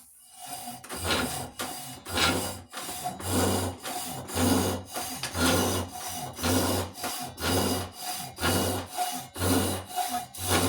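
A hand saw cutting through a wooden Australian racing axe handle on a modified Council Tool racing axe, steady rhythmic rasping strokes, about twenty back-and-forth pulls, close and clear with no talk.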